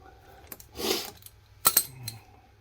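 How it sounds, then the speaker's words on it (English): A wrench tightens the chainring bolts on a 2021 Trek Fuel EX 9.7 mountain bike with an Absolute Black oval chainring: a few close, sharp metallic clinks and taps, plus one brief rasping scrape, in a quiet room with no talking. "grab the regular wrench, tighten it down"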